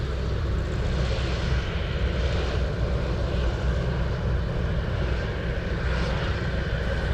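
A Cathay Pacific airliner in retro livery at Anchorage airport produces a sustained, loud engine rumble and rushing roar, even and unbroken from start to finish with no talk.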